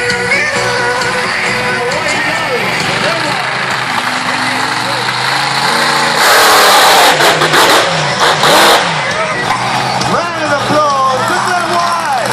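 A monster truck engine at a freestyle motocross show revs and idles loudly and up close before it crushes cars, with rising and falling roars and a burst of heavier throttle midway, while an announcer talks over it.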